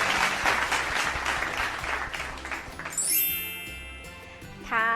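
Classroom applause for primary students during a science lesson on how milk-carton materials absorb water, loud clapping for the first three seconds, then fading into bright chiming tones and a rising tinkling sound effect at the end.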